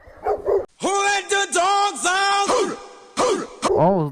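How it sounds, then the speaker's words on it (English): Two stray dogs bark and yelp in quick loud bursts on a road at a moped rider, with sustained close barking and a brief whine between volleys. "two stray dogs ran out onto the road and started barking at him"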